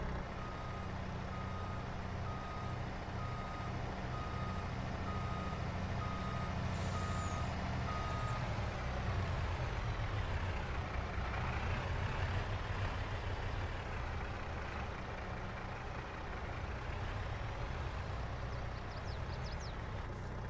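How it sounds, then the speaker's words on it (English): A truck in Farming Simulator 22 reverses with steady repeating backup beeps over a constant engine drone while unloading gravel and tailgating it into a spread, loud and continuous throughout. "As I unloaded the gravel, I did a little bit of tailgating to help us out instead of having one big pile."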